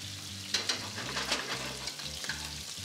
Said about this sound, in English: Pancetta's getting a little crispy.